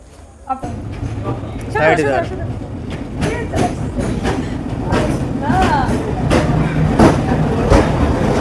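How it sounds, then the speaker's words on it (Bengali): A train rolls steadily through Gopalganj railway station at night with a low rumble and faint clatter, while people talk loudly over it close by. "কিছুক্ষণ পরে দেখেন ট্রেন চলে আসছে"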